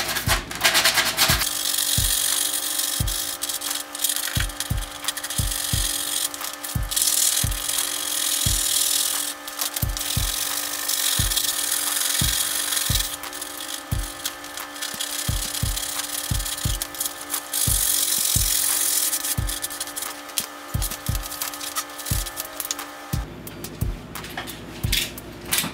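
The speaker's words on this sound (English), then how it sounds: "Now we'll use the sandpaper that came with the package, just to sand it down so there's no rough edges." Sandpaper rubbed by hand over a fiberglass surfboard repair, a steady series of evenly spaced scraping strokes, loud and close, continuing for about twenty seconds with no talk.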